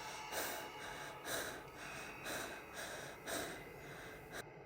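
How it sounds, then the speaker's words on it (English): Quick, shallow breaths in a steady rhythm, about one each second, with short airy puffs and gasps close by and fairly quiet over a faint background hiss. "and her quick, shallow breathing."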